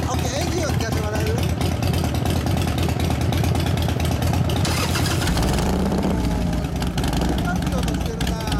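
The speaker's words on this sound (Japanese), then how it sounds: "エンジンを聞かせてもらえる？" A 1999 Harley-Davidson Sportster 883 with a Thunderheader exhaust idles with a loud, lumpy close-up rumble, then blips and revs partway through, while people talk over it.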